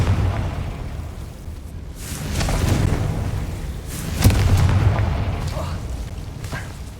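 Confringo explosive spell in Hogwarts Legacy, heard as rolling booms and bursts over a rumbling background, with a sharp crack-like blast near the middle and a heavy sustained explosion that slowly fades.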